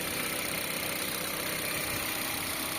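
A Mitsubishi Xpander's 1500 cc four-cylinder engine idles with a steady, even hum and fine vibration, close and constant with no voices over it.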